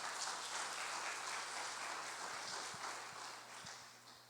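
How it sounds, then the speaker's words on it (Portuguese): A church congregation at a Brazilian Portuguese-language service gives a soft, distant round of applause, a faint, even wash of clapping that slowly tapers over about four seconds. "As palmas para o Senhor."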